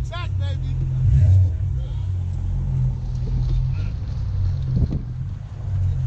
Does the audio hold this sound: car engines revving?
yes